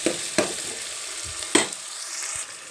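Onions and green chilies frying in a pan for chicken curry, a steady soft sizzle with a few sharp clanks of stirring against the pan, close and alone.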